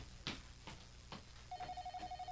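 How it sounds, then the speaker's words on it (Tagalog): A telephone rings faintly in the distance, giving a short rhythmic trill pattern after a few soft knocks and thuds, quiet and unaccompanied by talk. "ang telepono. May nanawag man."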